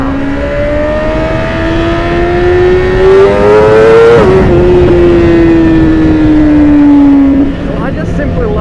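A BMW S1000RR sportbike engine revs hard and close, its pitch climbing steadily, dropping sharply at a quick-shifter gear change, then climbing again before easing off, loud and dominant throughout.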